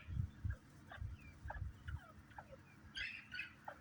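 Small bobwhite quail in a backyard pen give short repeated calls and chirps, clustering into a brighter burst of high notes near the end, with low thumping handling noise underneath.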